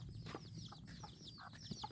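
Chickens clucking close by on a rural Thai homestead, short repeated calls and chirps over a low hum of background noise, fairly quiet.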